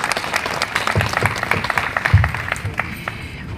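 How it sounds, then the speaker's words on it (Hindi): An audience at a Delhi Haj Committee event for Haj pilgrims breaks into lively applause to welcome a minister, with loud, dense clapping that swells midway and then tapers off slightly toward the end. "एक बार ज़ोरदार तालियों से मंत्री जी का स्वागत करें।"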